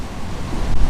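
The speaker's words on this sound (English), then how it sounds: "it's starting to get gusty and windy right when I want to light my pipe." Gusty outdoor wind buffets the microphone in a steady, loud rumbling rush that swells slightly toward the end, with no voices.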